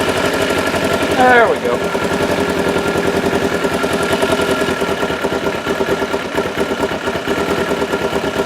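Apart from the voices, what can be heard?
engine revved up during carburetor sync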